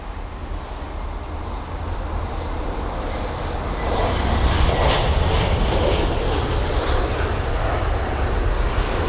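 A British Airways passenger jet at London Heathrow, a steady broadband engine roar that swells slightly partway through, loud and sustained with no voices.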